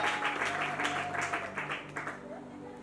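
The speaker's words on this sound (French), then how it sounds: "Sébastien, sous vos acclamations, s'il vous plaît" A church crowd applauds and cheers as an evangelist is introduced, with moderate rhythmic clapping throughout and a steady tone and voice mixed in beneath it.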